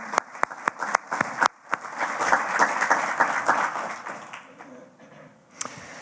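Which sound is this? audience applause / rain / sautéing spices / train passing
audience applause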